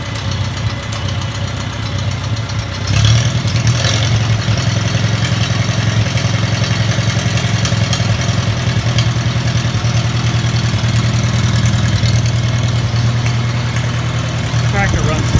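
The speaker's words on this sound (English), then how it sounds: "The tractor runs so good." An old Farmall Cub tractor engine idles steadily with a deep, constant chugging rumble and rattling vibration, close and loud throughout with no pauses.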